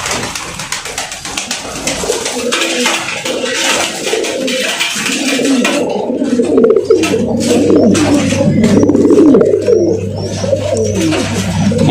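Pigeons cooing in a pigeon loft, a dense chorus of soft, overlapping coos up close and loud, with flutters and scratchy noise early on, no talking.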